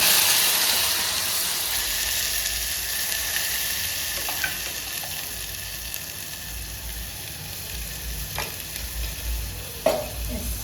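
Curry leaves and a ground spice paste sizzle and fry steadily in a hot pan, a continuous close hiss with occasional stirring scrapes and a sharper crackle near the end.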